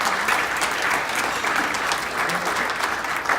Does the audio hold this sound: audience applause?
yes